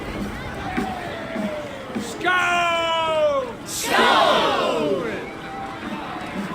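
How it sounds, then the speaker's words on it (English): A crowd of warriors roars a battle cheer in Assassin's Creed Valhalla, with a rising horn-like tone and loud overlapping shouting voices swelling twice over a steady background. "Take your horn. Join the battle cheer."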